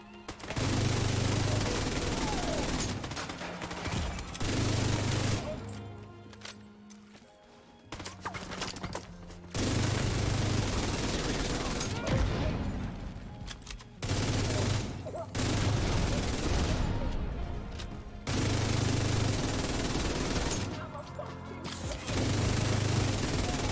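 Video-game guns fire in rapid, dense bursts at exotic targets, loud and close, stopping and starting in several stretches with short gaps between them, while someone talks now and then.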